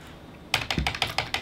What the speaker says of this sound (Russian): И печатаю, я могу даже печатать всеми 10 пальцами,